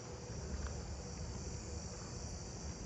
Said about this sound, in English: I think that's from a greater anglewing, because I remember hearing that last year.